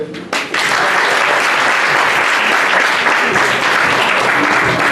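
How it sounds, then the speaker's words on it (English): Loud, dense applause from mourners at a funeral rite, starting abruptly after a brief pause and holding steady and close throughout. "On peut les applaudir, s'il vous plaît"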